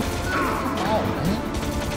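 Enemy gunfire in Metal Gear Solid on PS1, a dense burst of game combat noise with cracks and smashes running continuously at steady loudness, mixed with in-game effects.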